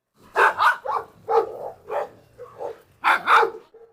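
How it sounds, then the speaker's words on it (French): Dogs barking at an animal shelter, a quick series of sharp close barks and yips in uneven bursts, with short pauses between them. "Comme il y a des chiens qui aboient de partout, il ne peut pas s'empêcher d'être intimidé."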